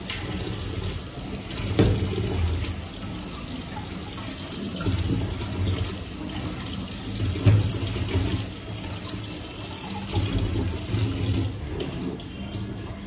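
Vegetables, potatoes and beans, washed under a running kitchen tap, a steady rush of water with repeated splashing surges as the produce is handled, close and fairly loud, no speech.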